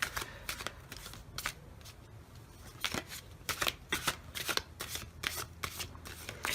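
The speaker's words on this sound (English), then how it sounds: "this is the Brian Froud Fairy Oracle deck" A Brian Froud Fairy Oracle card deck is shuffled by hand, with repeated crisp riffling bursts and papery slaps in an uneven rhythm, close and fairly quiet.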